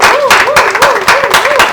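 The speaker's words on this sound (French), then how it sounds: "on peut l'applaudir aussi." Loud, close applause at a public gathering in Équateur, dense clapping that swells in bursts, joined by a rhythmic sung or chanted voice rising and falling over the hands.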